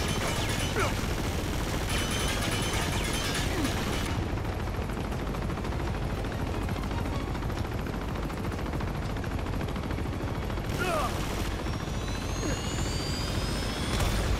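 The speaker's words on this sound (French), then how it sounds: "Vous voyez pas l'hélico?" Helicopter in the Uncharted 2 video game, a steady loud rotor and engine roar filling the scene throughout, with bursts of gunfire and explosions layered over it.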